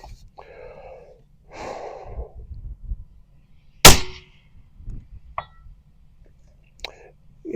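A suppressed rifle shot fired through a braked suppressor, Thunderbeast Magnus RR, Recoil-x or Billet Precision, cracks once sharply and loudly mid-clip, with faint breathy sounds and small clicks around it.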